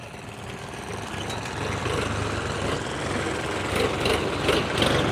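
Tractors hauling soil for road construction beside mustard fields run with a steady, rumbling engine drone, moderately loud and continuous, with the revving rising slightly toward the end.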